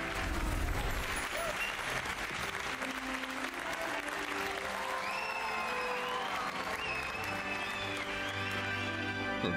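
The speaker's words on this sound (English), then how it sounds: "A lot of cheering for Gryffindor." Crowd cheering and applauding for Gryffindor in the video game Hogwarts Legacy, a loud, dense, continuous roar of clapping and voices with music underneath, sustained throughout.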